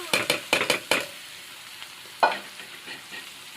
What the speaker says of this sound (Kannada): ಚೆಂದಾಗಿ ಎಲ್ಲ ಕಡೆ ಮಿಕ್ಸ್ ಮಾಡ್ಕೊತೀನಿ